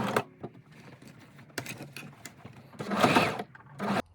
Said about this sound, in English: let's sew this bad boy on with the sewing machine now